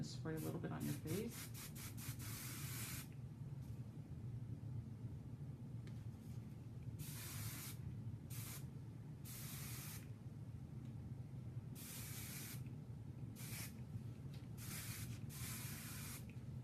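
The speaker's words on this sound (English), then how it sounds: "I'm going to spray a little bit on your face." Bursts of hair texture spray from an aerosol can hiss out at a salon demonstration, several short separate sprays of about a second each, close and clear over a steady background murmur.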